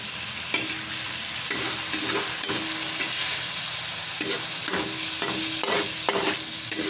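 Chicken liver adobo with soy sauce sizzles steadily in a hot pan while a utensil stirs it in repeated scraping strokes, close and fairly loud, with no talking.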